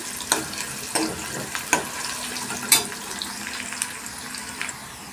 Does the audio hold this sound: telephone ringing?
no